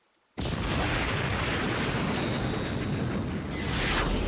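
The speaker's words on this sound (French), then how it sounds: "L'explosion stellaire de Pegasus!" Beyblade Pegasus star blast explosion effect from an animated battle: a sudden loud burst that holds as a sustained roaring rush with a rising whoosh layered on top, no voices.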